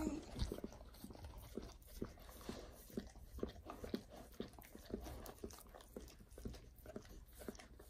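Dogs lap and smack at peanut butter in quick, irregular wet licks and chewing noises, close and fairly quiet, with some faint voices in the background.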